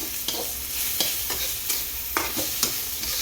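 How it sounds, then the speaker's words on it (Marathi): Onions already sautéed in a pan sizzle softly as a tempering is stirred for a quick tomato chili chutney, with repeated spoon scrapes cutting through the low, steady frying hiss. "आता फोडणी देणार आहे"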